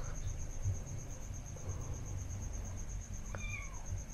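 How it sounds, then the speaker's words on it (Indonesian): A soft, distant cat meow appears once near the end over a steady hum and faint insect-like background noise. "Ada suara kucing."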